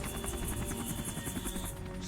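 Helicopter during a boss fight in Metal Gear Solid: The Twin Snakes, its rotor chopping in a fast, steady throb that stays loud and close amid game noise.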